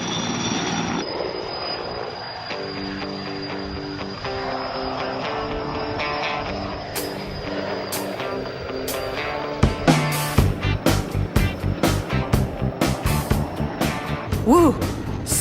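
An air crane helicopter hovers and delivers a load, its steady rotor and engine drone running continuously, with voices talking over it and sharper gusty bursts of rotor wash toward the end.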